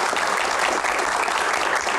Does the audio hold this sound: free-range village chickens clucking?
no